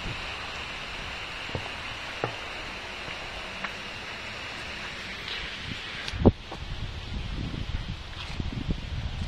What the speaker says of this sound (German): weil jetzt der Wind doch sehr stark geworden ist